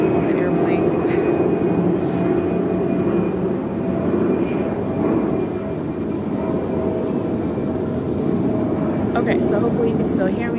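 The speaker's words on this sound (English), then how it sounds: "The airplane." An airplane flying overhead gives a loud, continuous roar that stays steady for several seconds and fills the background, with a person talking faintly under it.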